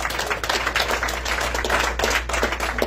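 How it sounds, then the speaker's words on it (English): A church congregation claps in a quick, continuous patter of many hands, moderately close and steady for a few seconds with no talk over it. "Give the Lord a clap offering"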